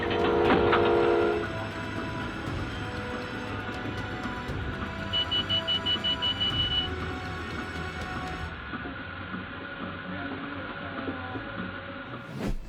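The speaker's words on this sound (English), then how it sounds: "O trem tá buzinando que tá vindo ali." A train sounds its horn on the approach to a track where a worker is caught on the rail, with rumbling rail noise running throughout and a bright, repeated horn blast in the middle, loud and close.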